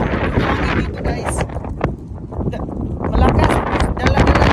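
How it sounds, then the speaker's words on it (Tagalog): Strong wind from a dust storm in Texas roars and buffets the microphone in heavy, loud gusts, with a voice faintly audible at moments. "Grabe yung hangin guys."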